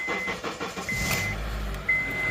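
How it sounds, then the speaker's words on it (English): A car engine turning over and catching, then running at a steady idle close by, started to power a portable tire inflator; a short whine rises near the end, with no voices. "start the engine"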